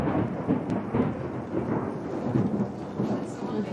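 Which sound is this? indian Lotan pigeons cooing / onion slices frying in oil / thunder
thunder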